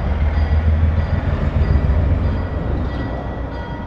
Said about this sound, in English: 151 struggles to lug the consist, dropping back to idle several times after attempting to notch up